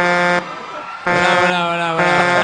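A garbage truck's horn blares in two long, loud tonal blasts separated by a short gap, close by and harsh.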